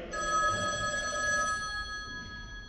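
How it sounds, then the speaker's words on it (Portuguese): A telephone bell rings in one sustained, bright metallic trill that fades out, heard close and alone over a low background hiss. "Espere um minutinho, eu vou atender o telefone."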